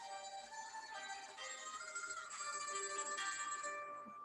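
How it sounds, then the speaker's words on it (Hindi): A phone rings with a steady, bright tonal ringtone, a repeating melodic pattern that carries on evenly at low volume with no talk over it. "अरे फोन आया"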